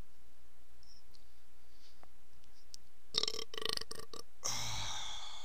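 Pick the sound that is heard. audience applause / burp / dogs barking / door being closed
burp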